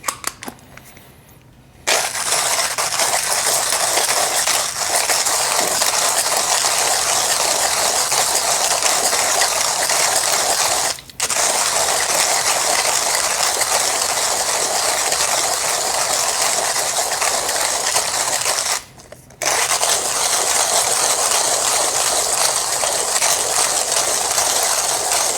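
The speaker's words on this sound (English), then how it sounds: "Took about 30 seconds last time to grind 20 grams of beans." A Turin H40 coffee grinder works through 20 grams of coffee beans with a loud, steady mechanical grinding whir that runs on for about twenty-five seconds, broken by brief stops near the start, middle and end.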